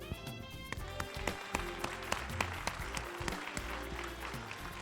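Audience applause fills an awards event, a dense run of claps with sharp individual hits, steady and moderately close for several seconds.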